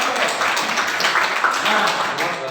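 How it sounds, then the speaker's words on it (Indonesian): A group of students claps for classmates who have just read Quran verses aloud, a dense, loud patter of hands lasting a couple of seconds in a classroom. "tepuk tangan untuk yang sudah membaca ya"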